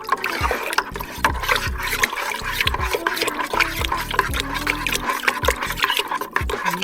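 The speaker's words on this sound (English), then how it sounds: "Give it a quick stir." A batch of raspberry-infused water wine must is stirred with a utensil in a container, giving repeated swishing and sloshing strokes at close range with knocks against the sides.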